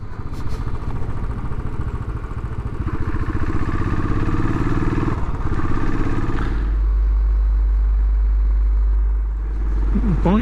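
A Royal Enfield Classic 500 is ridden on open roads, its single-cylinder engine thumping loudly and steadily close by with wind rush. The pitch shifts midway as the rider changes speed, and there is no talking.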